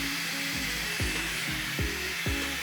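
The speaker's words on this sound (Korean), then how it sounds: "집에서는 드라이기를 이용해서 이렇게 앞쪽으로 이렇게 털어서 말려주시면 돼요" A hair dryer blows steadily and loudly at close range while drying hair in a salon, its whoosh wavering in pitch as the airflow shifts through the strands, with no talking.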